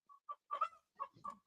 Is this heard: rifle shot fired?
no